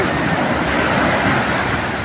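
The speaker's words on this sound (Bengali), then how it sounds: "একা সমুদ্রের গর্জন" Night surf roars steadily along the shore at Puri, a dense continuous wash of breaking sea waves filling the air with no voices and no traffic.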